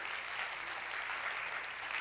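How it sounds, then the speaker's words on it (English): A church congregation claps together for several seconds at a Sunday service, a steady, even wash of many hands heard from a distance, with no voices over it. "Let's give the Lord a hand clap."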